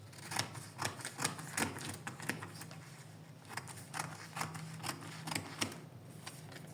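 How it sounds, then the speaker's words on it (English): Fabric for a crop top pattern is cut with scissors, a steady series of close, crisp snips repeating about twice a second over a low background hum. "I'll minus it out and I'll cut it out. So I'll be cutting this out."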